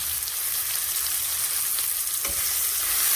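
Coriander, cumin and chili powder fry in a pan with a loud, continuous hiss, with one clear scrape of a spoon stirring partway through.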